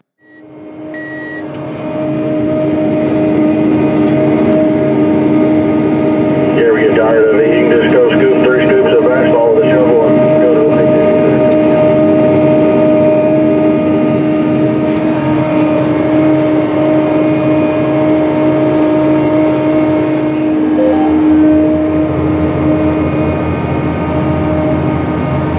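Inside the cab of a John Deere 9520RX tractor pulling a 90-foot DB90 planter while planting corn, a steady loud engine drone with tonal hums and faint electronic chirps, constant throughout.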